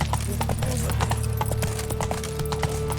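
Horse hooves clip-clop at a steady trotting rhythm in The Witcher 3, close and continuous under a low droning game soundscape, with a faint voice briefly present.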